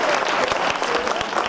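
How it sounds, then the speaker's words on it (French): A crowd claps for Marianne after she finishes her music piece, dense continuous applause with a few sharper individual claps standing out. "Foule applaudit Marianne qui vient de finir son morceau."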